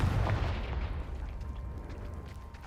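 Confringo blasting spell in Hogwarts Legacy gameplay, a heavy booming explosion that hits at once and then rumbles down into a long, fading low roar of debris.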